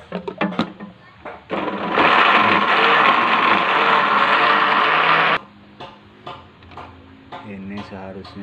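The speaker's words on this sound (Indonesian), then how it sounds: "Blender sampai halus" A kitchen blender grinds betel leaves and katis leaves into a smooth paste, a steady loud whir lasting a few seconds, with clatter and handling noises before and after.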